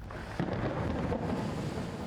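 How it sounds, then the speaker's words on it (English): Deep thunder rumbles low and continuous during a desert storm near the opal-mining town of Coober Pedy, with a faint hiss of rain and no voices. "There is a massive storm brewing."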